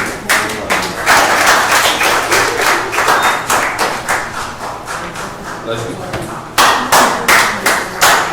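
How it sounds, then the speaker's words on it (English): An audience at a fundraiser and art show claps rhythmically for a performer, a steady run of sharp, close hand claps with some voices underneath. "So a round of applause for Risharu"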